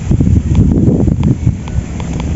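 Strong wind buffets the microphone with loud, low rumbling gusts that rise and fall continuously, on a windy day of fishing by choppy water in Jaen, Nueva Ecija.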